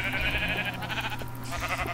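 Sheep in Minecraft bleating repeatedly, several nasal wavering calls overlapping in quick succession, loud and close with no talking.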